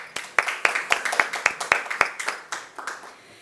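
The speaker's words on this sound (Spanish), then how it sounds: "para quien pido un fuerte aplauso" Audience applause at a book presentation ceremony at the Universidad de San Carlos de Guatemala, heard as a run of about a dozen distinct, fairly close hand claps in an uneven rhythm that thins out toward the end.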